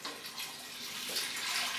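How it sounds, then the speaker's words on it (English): Whole milk, about two pints, pours steadily into a pan of softened leek and shallot for cullen skink, a smooth liquid gush that swells slightly toward the end, with no talk. "I'm going to pour straight in with the milk"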